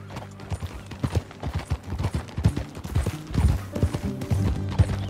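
Horse hooves clip-clopping at a steady walking pace in Red Dead Redemption 2, close and rhythmic, with creaking tack and faint background ambience.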